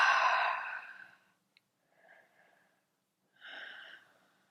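Deep breathing during a yoga pose: a long audible exhale up close, then softer breaths with a slow rhythm and quiet pauses between them, no speech.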